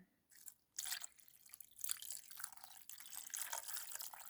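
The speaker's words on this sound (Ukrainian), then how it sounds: "заливаю рибку окропом" Boiling water poured from a kettle over hake pieces seasoned with peppercorns and bay leaves in a baking dish, a close, steady splashing stream after a short pause near the start, continuing without speech.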